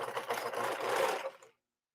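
A serger overlock sewing machine stitches men's shirt fabric in one quick, close, buzzing run of rapid mechanical chatter that stops abruptly after about a second and a half.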